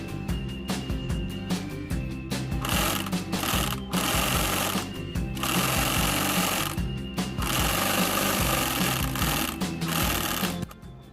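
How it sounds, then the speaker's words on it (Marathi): A sewing machine stitches a cotton baby blanket of cartoon-print fabric with a lining, running in loud rapid bursts separated by short pauses, close and alone. "चला आपण आता हे शिवूया."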